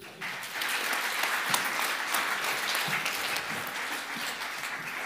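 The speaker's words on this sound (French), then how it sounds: "applaudissez-le s'il vous plaît" Audience applause at a Geneva eloquence contest, a dense steady clatter of many hands that starts abruptly and holds at an even level for several seconds with no talk over it.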